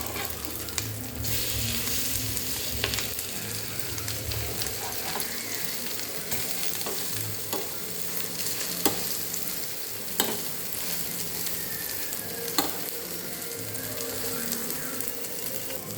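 Food frying in a pan after being flipped for a breakfast dish, a steady close sizzle with scattered crackles and light scraping clicks throughout.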